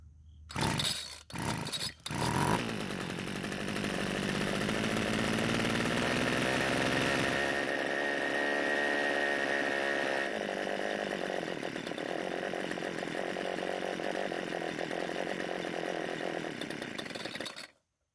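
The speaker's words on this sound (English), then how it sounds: "I might as well try and start it and see what it does" An old Homelite string trimmer with a leaking carburetor is pulled a few times with short bursts, then the small two-stroke engine catches and runs loudly and steadily close by, revving and droning for about fifteen seconds before cutting out.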